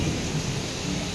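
Heavy monsoon rain pours down on a Pakistani home as floodwater enters the house, a steady dense hiss of downpour filling the scene without a distinct thunderclap.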